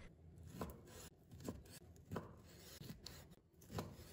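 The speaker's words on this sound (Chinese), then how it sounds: "再准备1根腊肠，把腊肠切成小段" Knife chopping Chinese sausage into thick slices on a cutting board, several distinct rhythmic cuts spaced about a second apart, close and fairly quiet with no talking.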